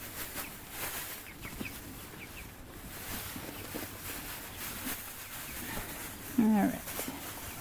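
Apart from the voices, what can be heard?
chickens clucking while eating kohlrabi scraps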